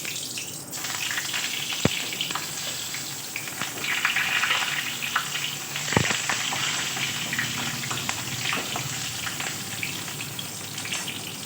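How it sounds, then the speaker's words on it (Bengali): Pointed gourd frying in hot oil in a wok gives a steady, close sizzle and crackle throughout, broken by two sharp clicks near the start and middle. "পটলগুলো ভেজে দিচ্ছি।"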